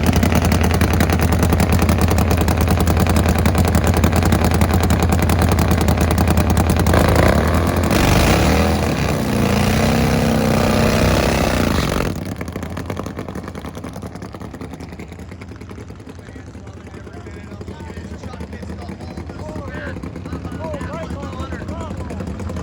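Carbureted, high-gear-only Pro Fuel Harley drag racing motorcycles at an AHDRA final round, roaring loudly and steadily for about twelve seconds before dropping to a quieter, distant engine drone.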